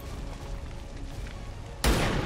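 Gunshot in the video game XCOM 2: a loud, sudden synthetic blast near the end, after a steady bed of game ambience and music.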